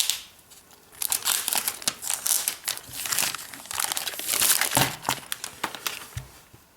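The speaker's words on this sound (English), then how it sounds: "So let's go ahead and peel off this plastic." Protective plastic film peeled off a glossy, reflective keyboard dock for an iPad, giving a run of crinkling, crackling rustles that swell and fade over several seconds, close and fairly loud with no talking.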